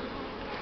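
A large Buckfast honey bee swarm hums in a dense, continuous buzz, close and steady throughout, with no voices.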